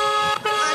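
A car horn honks in a short sustained blast with a brief dip in the middle, loud and close, with no talk over it.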